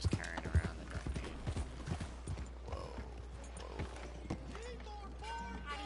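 Horse hooves clip-clop on a town street in Red Dead Redemption 2, a quick uneven run of nearby hoofbeats with a brief whinny-like tone and game ambience around them.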